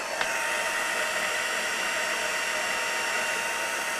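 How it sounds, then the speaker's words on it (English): A heat gun blows hot air to set embossing powder, producing a steady, close, even whoosh with no breaks. "so I'm just going to heat set those now"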